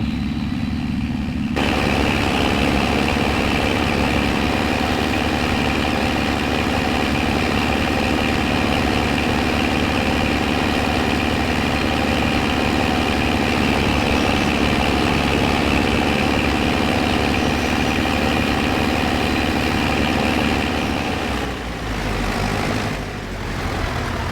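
A tractor engine idles in Farming Simulator 25, a steady, loud, low rumble with a constant mechanical drone that holds unbroken throughout and fades slightly near the end, with no voices.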